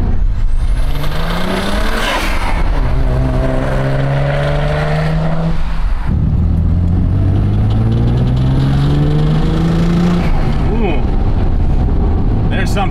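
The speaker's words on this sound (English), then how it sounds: "Something that's not happy in that engine bay. It's like a really nasty creaking." Car with zero oil pressure and a failing engine, heard from inside as it revs and accelerates in rising sweeps, loud and close, with someone speaking over the engine noise; no distinct creak stands out.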